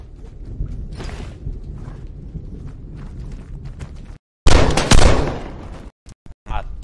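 Gunfire in a shooter video game similar to PUBG, a sharp loud burst of shots near the end after a stretch of busy game sounds and movement, with a few short hits following.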